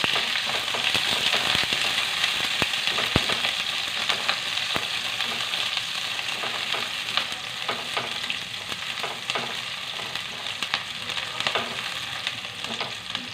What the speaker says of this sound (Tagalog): painitin lang natin ng konti yung ating oil. Unahin na po natin ilagay yung ating sibuyas.